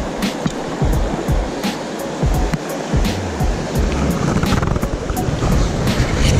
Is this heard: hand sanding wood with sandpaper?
no